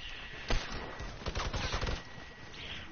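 Video game gunfire rattles in a few quick bursts: a sharp lone shot, then a denser volley of rapid shots at close range, fading to quieter background sound.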